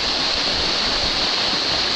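Waterfall in a forest pouring onto a person standing beneath it, a loud, close, unbroken rushing splash of falling water with no voices.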